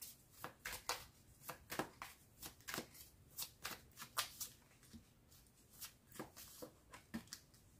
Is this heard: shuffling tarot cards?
yes